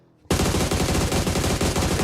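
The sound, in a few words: gunfire in a video game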